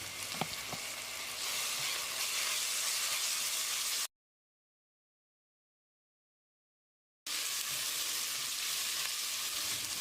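Ginger garlic paste fries in a pan for biryani-style rice, giving a loud, steady hiss and sizzle with a few stirring clicks early on, broken by a stretch of total silence before the sizzling resumes.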